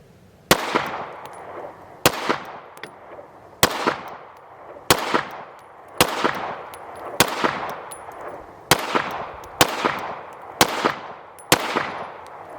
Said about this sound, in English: I'll put up some footage of me shooting the gun from probably about 10 yards out.